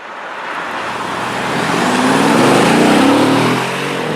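Mercedes E63 AMG wagon accelerating hard up an on-ramp, broad engine and road roar swelling louder through the pull, peaking, then easing slightly at the end, with no talking.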